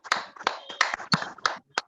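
Applause welcoming a speaker to an online business session: six separate sharp bursts of hand claps, each short and distinct, with brief pauses between them and no talking.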